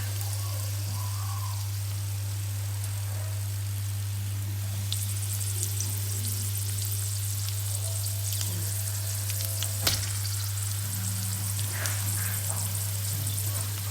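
Breaded shrimp fry in hot oil over medium heat, a steady crackling sizzle with scattered pops, under a constant low electrical hum.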